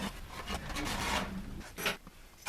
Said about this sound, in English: trace the outline of the sink.